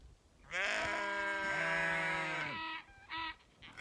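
A sheep lets out a long, wavering bleat lasting about two seconds, followed by a short second bleat, close by and loud against a quiet background.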